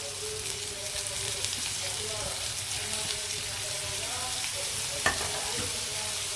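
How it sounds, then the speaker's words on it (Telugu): Sliced onions fry in hot oil in a pan for a drumstick, capsicum and egg curry, with a steady close sizzle throughout and one brief metallic tap near the end. "ఆయిల్ హీట్ అయిన వెంటనే మనము ఆనియన్ వేసేద్దాం"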